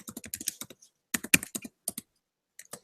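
A web address typed on a computer keyboard: quick bursts of close, crisp key clicks in uneven runs, with a pause in the middle and a few final taps.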